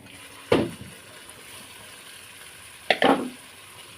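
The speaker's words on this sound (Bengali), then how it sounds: "একটু নাড়িয়ে নেবো।" Egg masala tadka in a pan, two separate bursts of sizzling as it is stirred, each a quick crackling hiss that fades within about half a second, with a quiet kitchen background between them.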